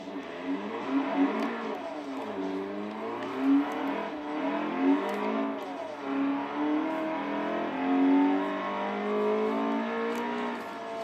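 A car engine in a Forza Horizon racing video game revs repeatedly, pitch climbing and dropping through gear changes, steady and fairly loud, with no voices over it.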